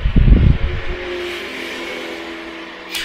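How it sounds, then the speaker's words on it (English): Road traffic passes outside, a brief low rumbling whoosh at the start that fades into a steady, muffled background hum. "I apologize if you can hear any traffic in the background."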